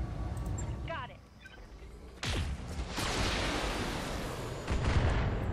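Weapon fire from a PPC or laser in BattleTech: a sudden bright crack followed by a long, loud, noisy roar that swells again near the end, with a voice briefly audible early on.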